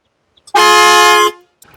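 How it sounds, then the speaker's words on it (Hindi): A single loud, sustained truck horn blast from a Tata 1921 truck rings out for under a second, bright and close, with brief clicks before and a faint rumble after. "रूट्स कंपनी का हॉर्न आवाज सुना देते हैं।"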